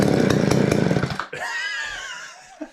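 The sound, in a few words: Mac 610 chainsaw engine firing up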